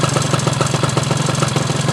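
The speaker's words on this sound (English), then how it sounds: "I just want to show you what the bike looks like idling." A Honda Dio scooter engine idles steadily close by, with a fast, even putter and a rattly, pulsing throb and no voices.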